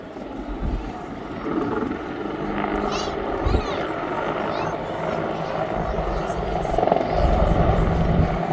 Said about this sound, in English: The pilots at Crowd Right throw the aircraft into a rapid return-to-target maneuver